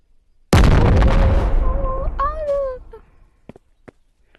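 RPG rocket exploding in the video game Animal Company: one loud, sudden blast that rolls on for a couple of seconds, followed by a few whistling tones and faint clicks.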